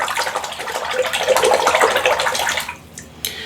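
Running water rinsing a shaving razor and its parts under a tap, a steady close splashing flow for nearly three seconds that cuts off, followed by a brief drip and clatter.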